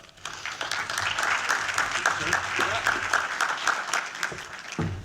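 Applause from a keynote audience at a symposium rises and carries steadily for several seconds as a speaker is welcomed to the stage, with a few voices mixed in near the end.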